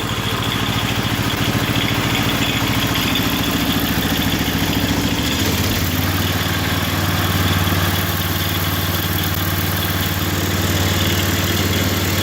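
A John Deere garden tractor engine idles steadily nearby, its low rumble running without a break and shifting to a slightly different pitch partway through, with no talking.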